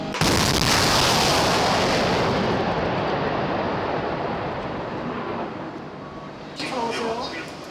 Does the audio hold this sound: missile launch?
yes